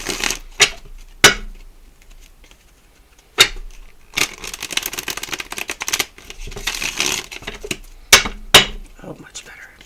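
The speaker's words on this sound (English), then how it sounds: "It's being a little rough on the shuffle." A Light Seers tarot deck is shuffled roughly by hand, giving sharp card snaps followed by longer bursts of riffling and sliding cards, with quiet pauses in between.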